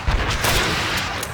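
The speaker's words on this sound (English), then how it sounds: "Oh, it's coming from the Panzerwerfer." Panzerwerfer rocket fire in Call of Duty 2, set on the Eastern Front during the defense of Moscow, lands as a loud, close blast followed by a rushing, rumbling roar that carries through the short clip.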